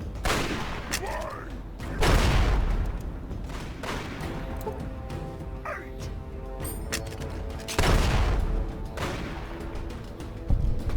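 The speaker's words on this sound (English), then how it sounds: "I hear more gunfire." Several loud bursts of gunfire in the video game Fallout: Tale of Two Wastelands, sharp cracks at irregular intervals with quieter stretches between, some shots sounding distant.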